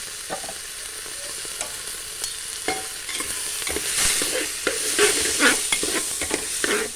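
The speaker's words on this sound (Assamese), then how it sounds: "মই ইয়াত বৰা চাউল এড কৰি মই ভাজি ল'ম" Bora rice is stir-fried in ghee in a pan: a crackling sizzle runs under repeated scraping strokes of a spatula, growing busier and louder toward the end, with no speech.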